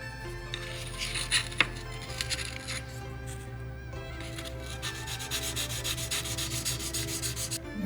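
Sharpening stone rubbing steadily over the tip of a roughly 100-year-old katana blade during reshaping, a continuous close abrasive scrape with one brief sharper scratch early on and no talk.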